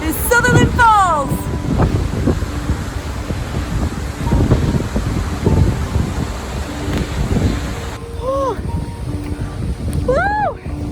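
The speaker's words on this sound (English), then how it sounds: "Coming to you from the tallest waterfall in New Zealand." Sutherland Falls, New Zealand's tallest waterfall on the Milford Track, roars as a loud, steady wash of falling water, with brief voices calling out at the start and again near the end.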